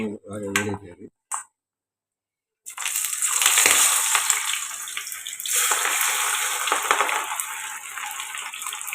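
Sliced onions dropped into hot oil, starting with a sudden loud hiss that settles into a steady, close sizzling crackle; a voice speaks briefly before a short silence.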